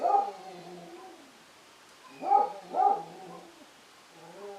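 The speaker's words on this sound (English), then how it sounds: "Princess loves to bark. That's my neighbor's dog." A neighbour's dog named Princess barks and yips in short bursts, with one at the start and a close pair in the middle, and the last bark trailing off near the end, each carrying a whiny, howling tone at moderate distance.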